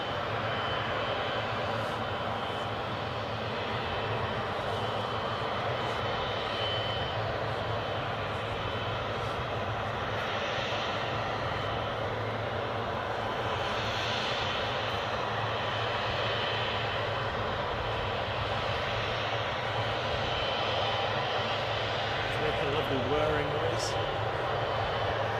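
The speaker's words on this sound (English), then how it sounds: "as we await the most significant departure, I'm going to call it that, in today's stream. This Emirates Boeing 777." An Emirates Boeing 777 departs from Newcastle airport, producing a broad, steady engine roar heard at a distance that holds for the whole stretch, with a faint voice underneath.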